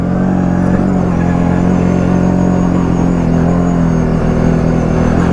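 An ATV fitted with an Iron Baltic skid plate rides over granite rocks. Its engine rumbles loud and steady up close, with faint scraping underneath.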